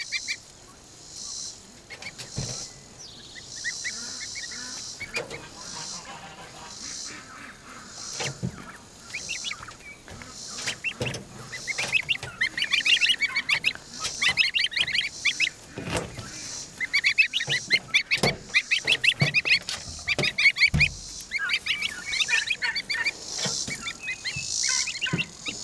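Embden goslings give repeated high, thin honks and peeps in irregular bursts, close by and growing busier in the second half, with a faint insect-like chirring underneath.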